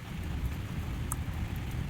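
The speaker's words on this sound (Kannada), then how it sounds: "ಫುಲ್ಲು ಮಳೆ ಬರಾಕತ್ತೆ ಜೋರ್ಸೆ." Heavy rain pours down in thick fog near Magod Falls, a steady dense hiss of falling water filling the whole stretch, with no voices.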